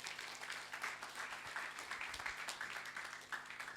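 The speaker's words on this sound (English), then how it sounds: "deserves another round of applause." Audience applause at a masterclass event, a faint, fairly distant patter of many hands clapping steadily throughout.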